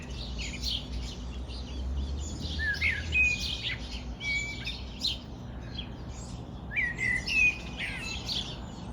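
Birds call and twitter in intermittent clusters of bright chirps, set against a steady low rumble of far-off traffic.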